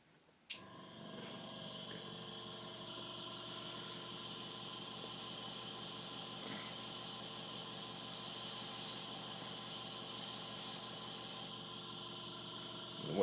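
An airbrush compressor hums quietly while paint sprays onto a salted, weathered Fine Molds 1/144 Millennium Falcon model. A loud, steady hiss runs for several seconds and then cuts off, leaving the softer compressor drone.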